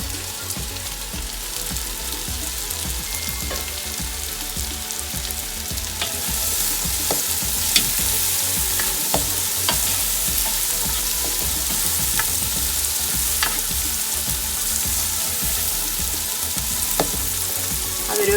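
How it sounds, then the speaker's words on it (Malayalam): Chopped capsicum sautés in an oiled pan, a loud, steady frying sizzle with occasional stirring clicks and scrapes. The sizzle grows slightly brighter partway through and carries on without talk. "അപ്പോൾ നമ്മുടെ ക്യാപ്സിക്കം ഒക്കെ ഒരുമാതിരി വഴന്നു കഴിഞ്ഞു."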